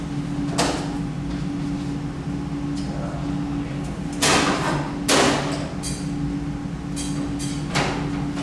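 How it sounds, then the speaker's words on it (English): A drawer being opened in a chemistry teaching lab, heard as a series of sharp knocks, slides and thuds at uneven intervals over a low steady hum of room equipment. "somebody got the drawer open?"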